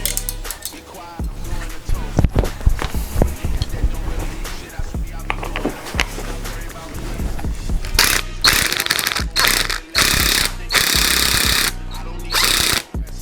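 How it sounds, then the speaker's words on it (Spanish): An electric impact wrench hammers in loud, choppy bursts while tightening BMW double VANOS parts during a rebuild, with short pauses, clanks of metal parts and brief handling noise between the rattling runs. "Acabamos de apretar con la pistola neumática, que la tengo por aquí, Eléctrica."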